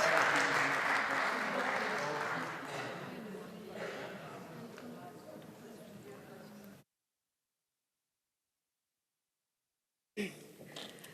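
Applause in the Turkish parliament for a deputy taking the floor: full clapping at first, thinning and fading over several seconds, then silence before a short burst of sound at the end.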